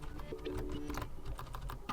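Quiet, steady typing on a Xiaomi wireless membrane keyboard with deep-travel, low-profile keys, a rapid run of soft clicks and taps with no voices.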